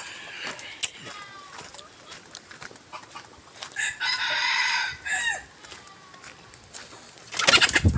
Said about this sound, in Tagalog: Ayan, ano na rin yan. Tumitilaok na rin.